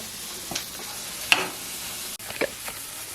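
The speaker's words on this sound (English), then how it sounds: "if you're cooking with cast irons, you can even pull it completely off the heat, because the skillet itself will keep residual heat and continue to cook the vegetables" Apples and onions cook in a cast iron skillet with a soft, low sizzle, broken by a few scraping stirs and one brief utensil knock.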